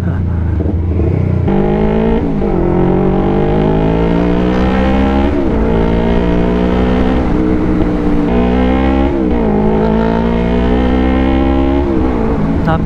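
Loud, close engine and exhaust roar from a Yamaha R3 motorcycle fitted with an Akrapovic exhaust while riding, rising in pitch through repeated gear pulls with short dips at each shift.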